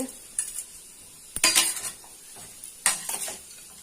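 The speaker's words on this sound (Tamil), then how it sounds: "நல்லா கலக்கி விட்டுட்டு நம்ம மூடி வச்சிடலாம்" Chicken masala is stirred in a metal pan, with sharp spoon scrapes and clatter in two main bursts plus lighter strokes over a faint low sizzle, close and fairly loud.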